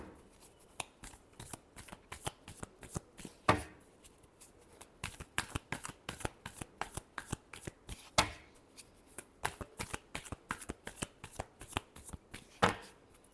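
Tarot cards being shuffled by hand, a fast series of crisp riffling flicks with occasional louder slaps as the deck is squared, close and clear with no talking.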